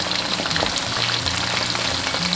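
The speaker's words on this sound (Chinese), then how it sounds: "全程中火炸" Chunks of vinegar pork deep-frying in oil over medium heat, a dense, constant bubbling sizzle with fine crackles, steady and close with no talking.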